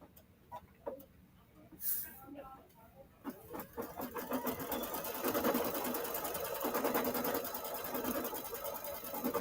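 A sewing machine stitches a strap for a yoga bag, its rapid mechanical chatter building from a few short bursts into a steady, fairly close run of stitching after about four seconds, with a voice speaking briefly early on.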